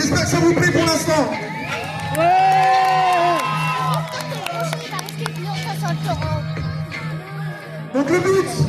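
A rodeo crowd at an American-style rodeo at Mas du Sire in Quissac roars with sustained cheering, whoops and shouts. A voice speaks over it and a steady tone hums underneath.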